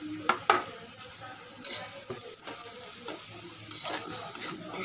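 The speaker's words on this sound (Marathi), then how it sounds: "छान परतून घेऊया" Masala with homemade Malvani chilli powder sautéed in a pan for a dried bombil, potato and brinjal curry, with steady sizzling and several sharp scrapes of a spatula against the metal, close up and no talking.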